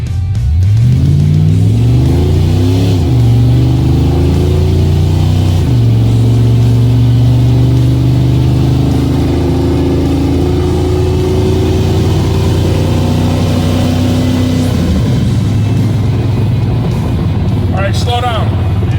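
A 1972 GMC C10 truck with a 700R4 transmission and shift kit accelerates from a stop at half throttle. The loud engine drone climbs steadily, dropping at each of several gear shifts, and is heard close from inside the cab.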